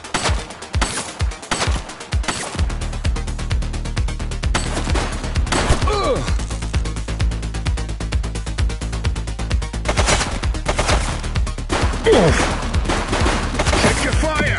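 Gunfire in The Precinct, a police game on PS5: a few sharp shots open, then a long sustained fusillade of rapid automatic fire runs throughout, loud and dense, with brief shouted voices breaking through.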